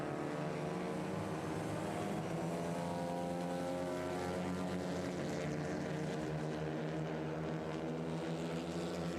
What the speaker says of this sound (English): We have got another battle between a Mazda and a Clio coming into the opening corner right now